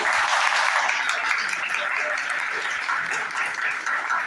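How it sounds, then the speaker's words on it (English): Steady applause from an audience at a college press conference welcoming a guest speaker, a dense even wash of clapping that holds at moderate level throughout. "Please give a round of applause for our guest"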